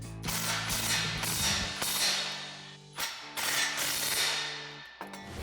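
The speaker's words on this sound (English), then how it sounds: "we're going to tighten these two bolts back down." Socket wrench with a 16 mm socket tightening exhaust bolts on a RAM 1500 during an aluminized dual exhaust install, giving repeated ratcheting clicks and metallic scraping in close, steady bursts with brief pauses.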